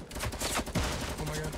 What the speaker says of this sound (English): He's minigunning me.